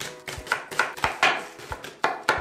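Leeks being chopped into chunks on a board, a brisk series of about ten crisp knife strikes in an uneven rhythm, close and clear with no talking.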